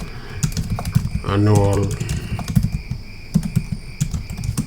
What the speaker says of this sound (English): I can type in some header.